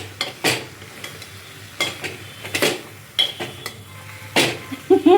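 Okra and onion sautéing in oil in a pan, with scattered scraping stirs and clinks of a utensil against the pan over a faint background sizzle, in irregular bursts.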